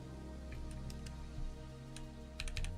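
Keys clack on a mechanical keyboard with aftermarket keycaps: a few quick, sharp clicks arrive in short bursts over a soft, steady background hum, and no voice is heard.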